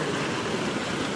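A river runs full and fast after heavy rain in Gujarat farm country, giving a steady, dense rushing wash with no voices over it.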